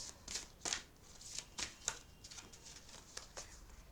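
Tarot cards being shuffled by hand, a series of crisp riffling bursts and soft slaps repeating about every half second, close and fairly quiet with no talking over them.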